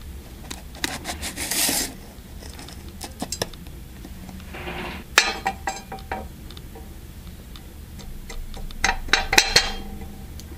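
Copper powder mixture made from recycled wire is tapped into a greased mold, giving close, sharp metallic taps and scraping rubs in irregular clusters.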